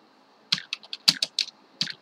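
Keys on a computer keyboard are tapped in a quick, close burst of about eight crisp clicks with brief gaps, clear against a quiet background.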